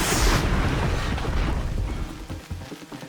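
A canister bursts after being shot in Horizon Zero Dawn, a loud booming explosion that hits at once and then rumbles and fades over about three seconds, with no talk.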